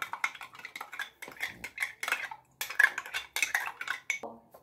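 A utensil clinks and scrapes against a bowl in quick, uneven bursts while sugar and other ingredients are mixed into flour for stollen, close and fairly loud, without talk.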